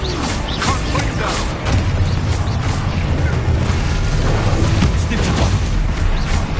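A Confringo spell goes off in the Hogwarts video game as a loud, dense rumbling blast with crackling debris, followed by a second surge of booming noise, continuous and heavy throughout.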